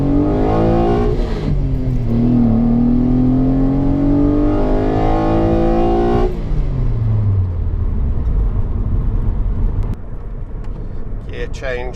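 A Renault Clio V6 (Phase 2) accelerates hard on a dry road, its engine note climbing loud and close through the revs, dropping at a gear change and then settling. A voice talks over it.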